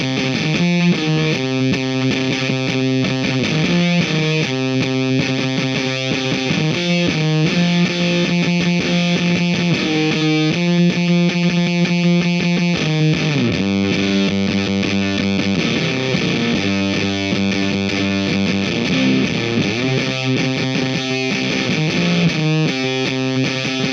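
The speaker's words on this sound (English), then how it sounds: "this is the Earthquaker Devices Terminal Fuzz." An electric guitar runs through an EarthQuaker Devices Terminal fuzz pedal, giving a harsh, spitty, heavily distorted tone as chords and riffs play continuously for a long stretch, loud and dense without any speech.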